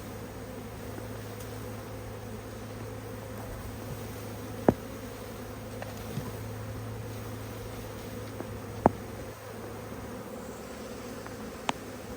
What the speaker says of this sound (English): this is 3 pounds of bees